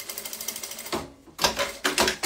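A sewing machine stitches curved fabric edges together in quick rhythmic mechanical bursts, pausing briefly between runs, close and clear.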